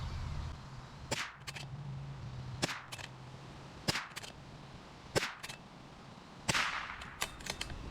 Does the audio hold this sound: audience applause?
no